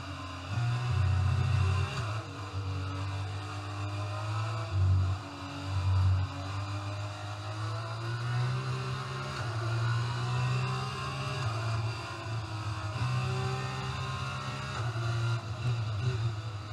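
F1 22 race car engine revving in-game, steady droning engine note rising and falling through throttle changes around a corner, fairly loud and continuous with no talking.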